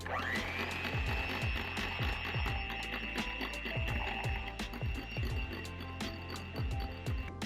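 A whipped matcha drink mixture is stirred in a cup, making a rhythmic, close clinking and scraping under a faint steady hum.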